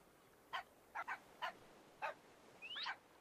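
Parrots in the Minecraft game imitating dog barks: five short, sharp yaps spaced about half a second apart, ending in a rising, whiny yelp, fairly faint over a low background hiss.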